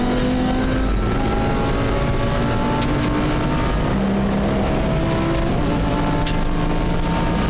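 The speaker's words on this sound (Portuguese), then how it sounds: "seguido pelo R8 de César Campaniço, enquanto o Mercedes SLS aparecia no terceiro lugar e Álvaro Fontes no Ferrari ocupava já o quarto" Race cars including a Mercedes SLS, Ferrari, Lamborghini Gallardo and Audi R8 lap a racing circuit, their engines droning loudly and continuously with overlapping rising and falling pitches as several cars pass.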